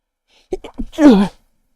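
A single sneeze: a few quick sharp inhalations building up, then one loud explosive burst, close to the mic, followed by silence.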